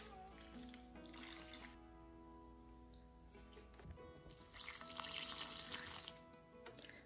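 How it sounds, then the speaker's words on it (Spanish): Water is poured slowly onto indoor potted plants to soak the soil, a faint trickling and splashing that swells louder toward the end over a quiet room. "Voy poniéndoles de a poco hasta que estén totalmente mojadas"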